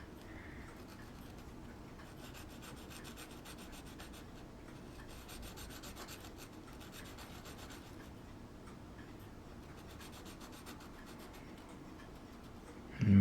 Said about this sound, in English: what I got here is one of Eric's sanding sponges. It's the 280 grit